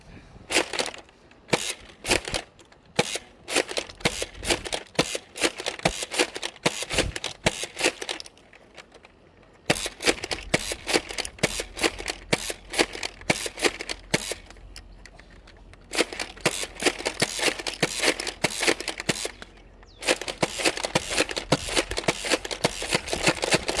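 A hip-fired high-capacity toy blaster minigun shooting in long, rapid clattering strings of sharp clicks, close and loud, broken by brief pauses between bursts.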